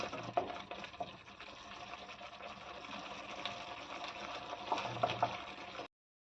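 Water pouring and splashing into a hot pan of lightly sautéed ingredients for a gravy, gushing unevenly with some sizzling and bubbling, close by, then abruptly cutting off.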